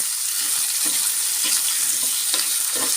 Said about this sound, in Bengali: এখন আমি আম আর চিংড়ি শুটকিটা দিয়ে দিচ্ছি